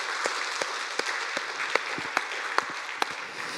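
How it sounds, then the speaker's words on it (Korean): A Sunday church congregation gives a short round of applause to God, a soft, even patter of many hands under a few louder, regularly spaced claps or taps close by. "마음 담아서 우리 하나님께 감동의 박수를 한번 올려드리도록 하겠습니다."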